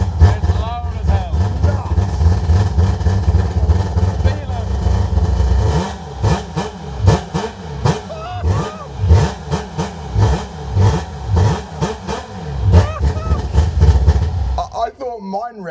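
Mini truck engine revving hard and loud, with rapid repeated bursts of acceleration rising and falling in quick succession, voices talking and exclaiming over the roaring engine.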